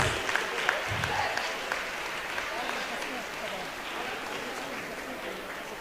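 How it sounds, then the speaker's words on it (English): Students and audience at a school annual day and sports festival applaud an award winner. The clapping is steady, continuous and moderately distant, filling the hall with an even wash of sound. "A big round of applause, students and audience."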